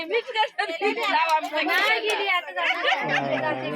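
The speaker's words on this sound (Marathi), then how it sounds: "अच्छा तर इकडे इकडे जास्त गर्दी आहे" Crowd at a school beat-level kabaddi sports meet, close busy chatter of many voices, including children and some laughter, continuous through the moment.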